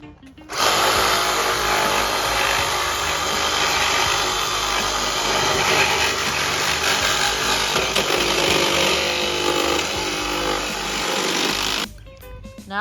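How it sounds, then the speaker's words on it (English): PVC pipe being cut while repairing a broken cleanout, a loud, steady buzzing tool noise running continuously for about eleven seconds before stopping abruptly, close to the microphone with no talk. "Now we cut the PVC."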